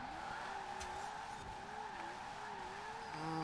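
Tires squeal continuously as a Nissan 240SX drifts in Forza Horizon 4, a wavering screech held over steady engine drone, with a sharper rise in pitch near the end.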